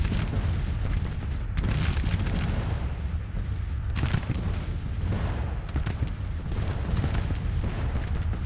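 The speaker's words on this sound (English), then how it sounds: "We took another casualty here from enemy artillery fire." Enemy artillery fire in the Civil War strategy game Grand Tactician, a continuous rumble of booms and distant cannon blasts, with several sharper reports standing out over a dense battle din.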